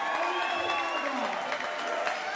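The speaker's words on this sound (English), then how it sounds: "Let's have a round of applause for your champion" Crowd at a Premier Fight League event applauding and cheering fight champion Justin Arteaga; fairly faint, continuous clapping with tonal voices rising over it, heard from a distance.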